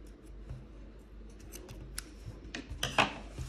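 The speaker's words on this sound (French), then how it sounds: "et là on peut couper." Scissors snipping the yarn of a crocheted bag, a few close crisp cuts ending in a louder final snip, with faint rustling of the yarn and no talk.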